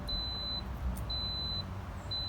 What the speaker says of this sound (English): Okay, so that the 3 beeps means it's starting.